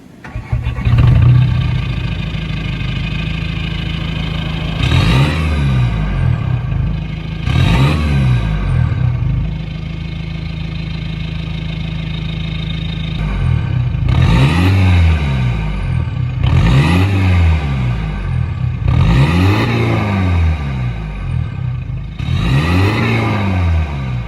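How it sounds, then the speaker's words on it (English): A car engine revved repeatedly from a standstill during a decibel loudness test, with about six loud surging revs rising and falling over a steady idle, close to the microphone. "So that was revving my car from stationary."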